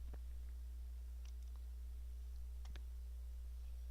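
A search being typed on a computer keyboard, a few faint, scattered clicks of keys over a steady low hum.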